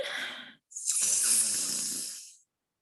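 A deep face-yoga inhale sounds as one long, breathy rush of air drawn in close to the microphone, lasting about two seconds after a short pause.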